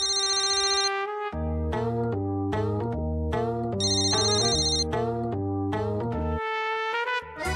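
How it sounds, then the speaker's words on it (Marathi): A phone ringtone plays as a bright electronic melody of repeating synth notes, loud and close, with the tune looping through the whole stretch and no voices. "महत्वाचा आहे, महत्वाचा फोन आहे."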